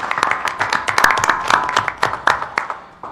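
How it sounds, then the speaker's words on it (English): A small group claps at a celebration, loud and close, with distinct individual hand claps in a quick uneven rhythm that thins out toward the end; no talk over it. "Please, may I have a round of applause for them"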